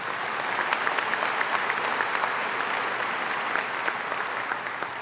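A large crowd at a university convocation applauds the dean, dense, steady clapping that fills the hall evenly, loud and unbroken for about five seconds.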